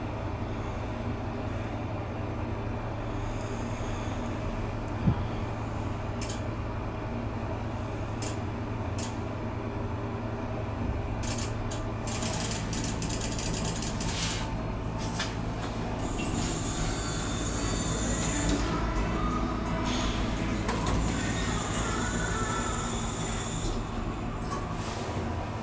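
A 2001 Thyssen roped hydraulic elevator at a shopping centre in Matinkylä, Espoo, Finland runs with a steady low mechanical hum, scattered clicks and a rising hiss and squeal midway through the ride.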